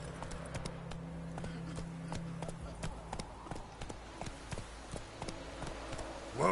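Hooves of a horse in the video game The Witcher, clip-clopping in a quick, regular rhythm near and clear over a low ambient drone, with a voice speaking briefly over them.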